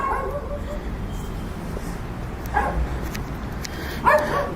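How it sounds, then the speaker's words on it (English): A dog barks twice in a cemetery at night, faint and distant, with the short barks spaced apart over a low steady background hum. "I just heard a dog."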